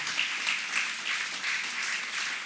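A church congregation claps together in a sustained, moderately loud round of applause, the many hands blending into a steady rolling patter with slight swells.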